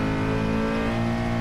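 A Nissan 370Z engine in a racing video game holds a steady rev around 2,500 RPM, a dense, droning harmonic hum that stays loud and constant throughout with no talk.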